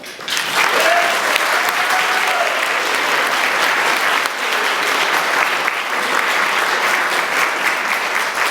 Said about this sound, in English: I want you all to give a big round of applause to Marvin Hoffman